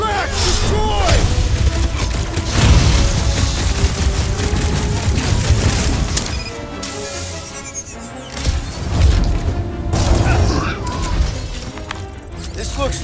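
Rocket blasts and firework explosions in the Guardians of the Galaxy video game, a dense run of booms, crashes and rapid bursts with brief lulls, loud and close, mixed with game effects and voices talking.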